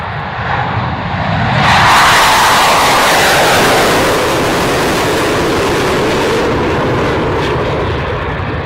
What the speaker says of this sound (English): Well, we thought the Vulcan was loud, and this is even louder. From the Waddington Airshow, it's the Draken.